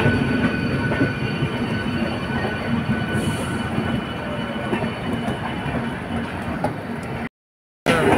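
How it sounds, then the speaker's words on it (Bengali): The Kulik Express departs Howrah and rumbles steadily along the rails, a constant loud roar of wheels and carriages with faint squeals, heard from inside, before a brief cut to silence. "আমাদের ট্রেন ছেড়ে দিয়েছে।"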